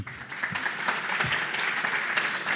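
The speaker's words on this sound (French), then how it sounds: "Merci au public également d'être présent, vous pouvez vous applaudir." An audience at a French round-table event on innovative energy-renovation solutions applauds itself, a steady wash of many hands clapping at moderate volume throughout, with a few low thumps underneath.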